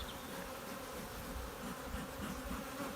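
Honeybees drone steadily inside an opened commercial hive of twelve frames, a dense continuous buzz that stays close and even throughout with no speech.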